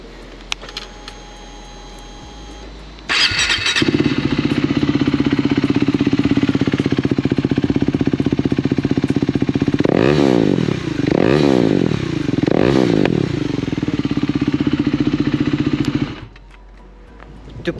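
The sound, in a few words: KTM Duke 390 motorcycle engine starting and revving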